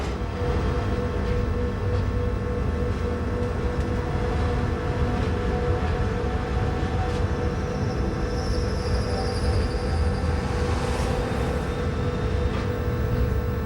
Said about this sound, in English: A Furka locomotive has been attached to the front of our train together with a restaurant car